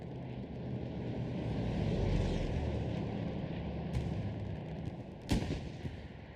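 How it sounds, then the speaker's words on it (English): Machine gun fire and explosions from a competitive online tank battle, a dense continuous rumble of distant gunfire with a sharp blast near the end, and no voices. "overwhelming amount of explosions and machine gun fire on the point"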